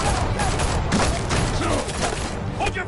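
Rapid volley of gunfire from the Telltale Batman video game, dense and continuous through the whole stretch, with a voice faintly mixed underneath.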